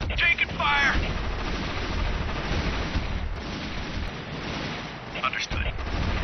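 Dense, continuous battlefield gunfire in the Army Men RTS strategy game, loud and sustained throughout with rumbling low-end bursts, while game voice lines and a player's voice break in at moments.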